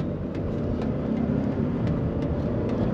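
A 2023 Ford Expedition XLT with a twin-turbo V6 accelerating, heard as a steady, loud cabin rumble of engine and road noise with faint periodic ticks and no talking.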